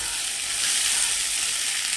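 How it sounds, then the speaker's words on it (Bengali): Garlic, onion, chilli and tomato fry in hot oil, giving a loud, dense, continuous sizzle with no talk. "এই যে তেলের মধ্যে এবার এই যে সব কিছু দিয়ে দিলাম, রসুন, পেঁয়াজ, লঙ্কা,"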